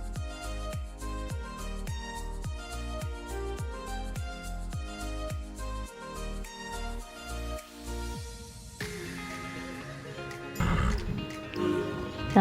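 A horse in the online game Star Stable Online gallops with a rapid, regular hoofbeat rhythm, then neighs loudly near the end, all against a game soundtrack.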